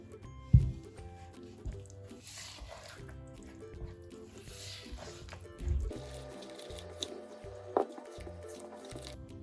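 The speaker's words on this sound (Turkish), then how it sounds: "Ondan sonra elimizi iyice yoğuracağız." Soft, sticky dough for an Easter Paskalya braided bread is squished and kneaded by hand, giving intermittent wet squelches and slaps at close range with quieter pauses between them.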